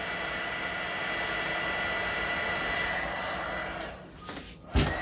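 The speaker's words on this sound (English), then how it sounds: "Heat shrink wrap, whatever you call it. Get that shrunk down." Heat shrink tubing on wiring is shrunk with a blower during rewiring of a 1969 Corvette's front end, a steady close rushing hiss that cuts off near the end with a brief knock.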